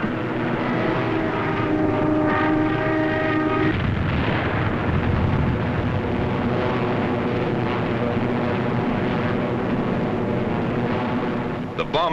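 A World War II US Army Air Forces fighter flight climbs and reforms, its piston engines giving a loud, sustained roar that shifts from a droning hum into a broad rushing wash, with a narrator speaking over it.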